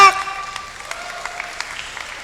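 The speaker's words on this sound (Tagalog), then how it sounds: "Palakpak." Sparse clapping from a church congregation during a sermon, a handful of separate, sharp claps scattered over a couple of seconds after a sustained tone fades at the start, fairly quiet and roomy.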